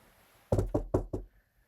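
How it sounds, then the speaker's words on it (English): Four firm knocks on wood come in quick, evenly spaced succession, close and sharp against a quiet room. "knock on wood"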